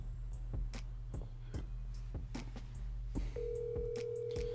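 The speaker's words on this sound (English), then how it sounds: "I'm gonna call his cell phone." Cell phone call being dialed, with a repeating series of short keypad or dialing tones over a steady low hum, then a sustained tone entering late.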